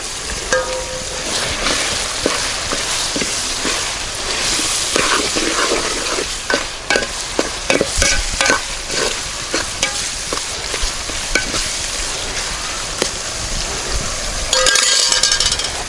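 Green chilies and curry leaves temper in hot oil in a village kitchen while rabbit curry is being made. A loud, continuous sizzle and crackle sounds close by, with repeated metallic clinks of stirring.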